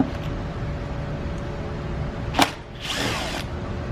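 A power drill loosens the air box screws in front of the battery on a 2009-2016 Volkswagen Tiguan, heard as a close, sharp whir followed by a longer spinning run over a steady engine-bay hum.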